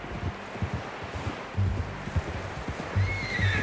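A horse in Red Dead Redemption 2 gives a clear, high whinny near the end, over soft hoof clops, rustling and wind, with no talk.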